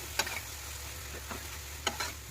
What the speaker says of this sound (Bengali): একটু গরম হইলে তারপর পেঁয়াজ আর ওই মশলাগুলো দিয়ে দিলাম এটাকে ভালো করে কষাই নিয়ে